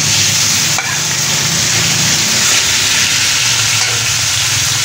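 Chicken pieces frying in ghee with garlic in a pan, a loud, dense, continuous sizzle and hiss close up, with a couple of brief clanks from a utensil.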